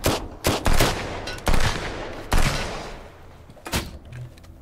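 Rapid bursts of gunfire in the survival game Sunkenland, with several loud, close volleys separated by short gaps, then quieter scattered shots toward the end.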